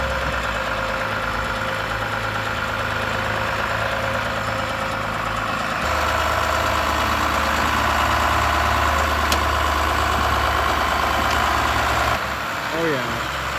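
A tractor engine idles steadily in tight quarters during snow removal, a loud continuous low throb with a brief shift in tone partway through, with voices talking over it.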